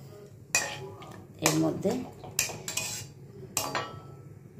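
Metal clanks and clinks of a lid settling onto a cooking pot of simmering potol curry come in several sharp knocks, close and fairly loud, with a brief spoken phrase in between.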